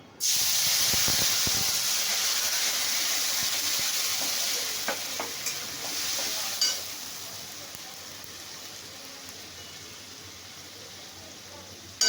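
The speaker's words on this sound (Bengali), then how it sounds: "আদা পেঁয়াজ রসুন ভেজে মশলাটা যেটা রেখেছিলাম সেটাই আমি দিচ্ছি" A fried paste of ginger, onion and garlic sizzles loudly in a pan over cumin seeds tempered in oil. The hiss is steady and close, fading slightly, with faint stirring scrapes partway through.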